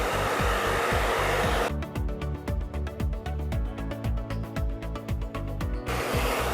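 A hair dryer fitted with a diffuser dries curly hair upside down for volume: a loud, steady blowing roar that breaks into a rapid pulsing, fluttering stretch midway, then returns to a smooth blast.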